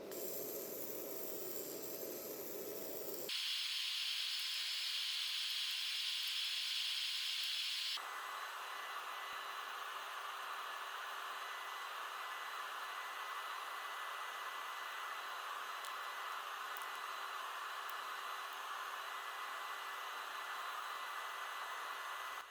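A fiber laser cuts a 0.5 mm thick aluminum card with a steady, airy whine and hiss, its tone shifting sharply twice as the machine changes state, continuous and close with no voices.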